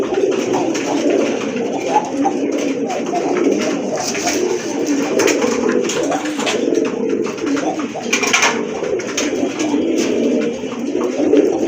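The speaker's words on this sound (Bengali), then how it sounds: "টকটকে লাল এক জোড়া রাজগোল্লা কবুতর, দেখার মতোই কিন্তু" A pair of red Rajgolla pigeons coo softly and continuously at close range, a low rolling murmur with occasional sharper flutters and clicks mixed in.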